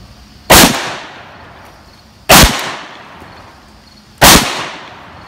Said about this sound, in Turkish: birkaç atış yapacak.